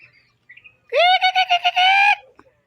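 Pet ducklings at feeding time let out one loud, close, harmonic chirping call with a quick pulsing rhythm that lasts about a second.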